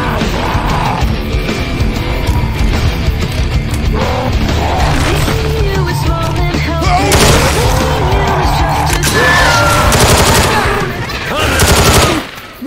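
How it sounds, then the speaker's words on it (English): Gunfire in the zombie shooter Left 4 Dead, with dense, loud rapid shots and heavy booms running continuously amid game chaos, while voices shout over the shooting. "Watch where you're shooting!"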